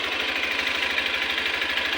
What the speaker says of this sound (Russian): Это 125 кубовый из двигателя. Сейчас надо, чтобы он прогрелся хорошенечко